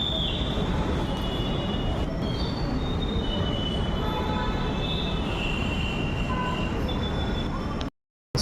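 A Hyderabad metro train running toward LB Nagar, a steady loud rolling rumble with high, drawn-out wheel squeals rising and fading over it, cutting off abruptly near the end.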